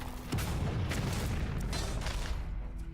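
Bomb explosions in the card game Hearthstone, a dense, continuous roar of overlapping blasts and crackling bursts that swells in after a brief lull and keeps rumbling throughout.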